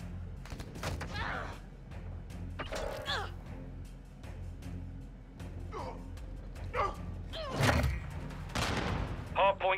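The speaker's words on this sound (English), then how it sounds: "I'm taking effective fire" Gunfire in the video game Call of Duty: Modern Warfare II, sharp shots and clattering bursts scattered through a busy battle mix with shouted game voice lines over the top.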